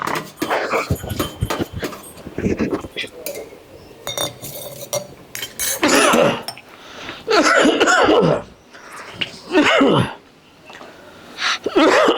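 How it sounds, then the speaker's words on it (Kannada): Repeated coughing from a person with a cough lasting three days, in several loud bursts scattered across a noisy household scene with clinking dishes, a barking dog, laughter and voices. "3 ದಿನ ಆಯ್ತು ಕೆಮ್ಮು ಕಮ್ಮಿ ಆಗಲ್ದು"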